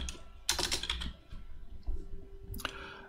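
Crisp keystrokes on a computer keyboard entering a word, a quick cluster of clicks followed by scattered taps and a final short burst, close and clear with no talking.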